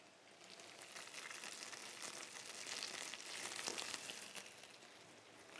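Red chicory fries in olive oil in a pan, a soft, steady sizzle and crackle that swells slightly midway and continues quietly with no talking.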